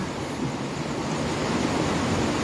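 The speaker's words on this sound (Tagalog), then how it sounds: "Malakas yung agos. Mabilis yung agos." Strong, fast river current rushing steadily in flood conditions, a loud continuous broadband roar of churning water with wind buffeting the microphone, sustained without pause and no voices.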